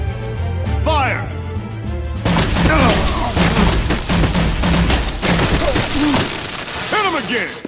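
Gunfire in a Batman scene, a burst of booming, crackling shots breaking out after a shouted command, mixed with raised voices and a busy background.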